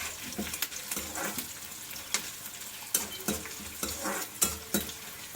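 Prawns frying in a pan, sizzling steadily while a utensil stirs and scrapes them in repeated strokes, close and fairly loud with no talking.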